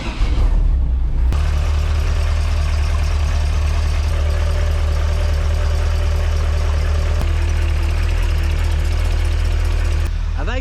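A 1930 Model A car engine idling with a suspected exhaust leak, a loud steady low rumble running continuously after a brief start, close by and without pauses.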